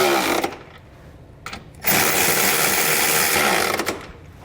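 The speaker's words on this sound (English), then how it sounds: "We're going to do the bottom bolts first on each side. We're going to use a 17mm socket for these." A socket wrench with a 17mm socket tightens the bottom bolts of a trailer hitch receiver on a 2021 Kia. Close mechanical whirring comes in short bursts, ending in one longer run of about two seconds.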